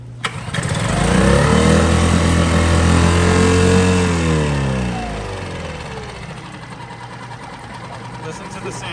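A portable outboard motor, Mercury or Yamaha, runs with a steady loud drone that rises in pitch as it is throttled up, then drops back to a lower idle.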